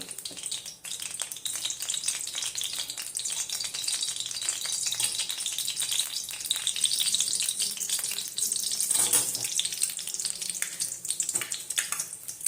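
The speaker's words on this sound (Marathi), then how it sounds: "गूळ टाकलेला आहे तुपामध्ये मेल्ट होण्यासाठी हा मेल्टच करून घ्यावा लागतो गूळ" Jaggery melting in hot ghee for fasting ladoos gives a steady, close sizzle and crackle with light rattling, continuous from start to finish with no talk.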